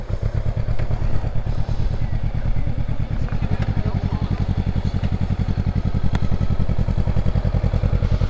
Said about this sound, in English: Should I move my bike over more?